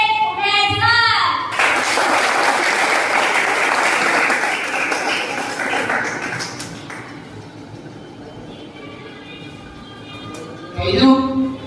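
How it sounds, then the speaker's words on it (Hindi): An audience at a health awareness event in Firozabad claps loudly and steadily to welcome a speaker onto the stage, with voices and cheers mixed in before the applause fades out. "आप जोरदार तालियों के साथ उनका वेलकम करेंगे"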